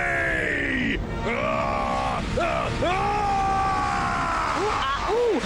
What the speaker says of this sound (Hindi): मास्टर ज़ेंड्रेड की चीखें तो पत्थरों को भी हिला रही है।